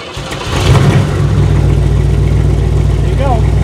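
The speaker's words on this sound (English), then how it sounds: "just turn the key. You don't have to step on it or nothing. It'll crank." A 1967 Buick Riviera with a carburetted engine cranks briefly and catches within a second, then settles into a loud, steady, close idle rumble, with a voice heard briefly.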